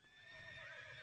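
A horse mount in the online game Tera whinnies in one short, clear, moderately loud neigh over a steady game background, with a faint clip-clop of hooves beneath it.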